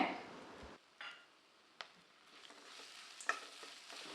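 Grated coconut being stir-fried with a pinch of asafoetida in a pan for coconut rice, a soft steady sizzle broken by a few sharp scrapes and taps of a spoon against the pan, close and quiet, no talking.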